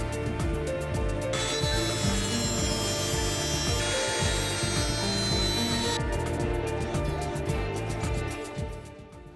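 Excess axle shaft on a 1/25 scale 1974 AMC Gremlin model gets cut with rapid, rhythmic back-and-forth rasping strokes, close and continuous, briefly intensifying mid-way before easing off at the end.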